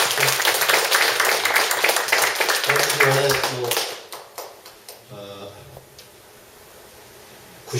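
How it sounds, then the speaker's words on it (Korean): A crowd claps for a few seconds, dense and steady applause that thins out and fades, followed by quiet room sound. "박수 한 번만 주세요"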